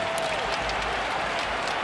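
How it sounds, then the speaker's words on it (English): A hockey arena crowd applauds Zdeno Chara, a dense, steady wash of clapping and crowd noise lasting under two seconds. "There's appreciation from this UBS crowd on hand for Zdeno Chara"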